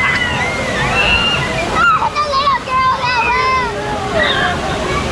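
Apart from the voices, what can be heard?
water splashing onto raft riders at Kali River Rapids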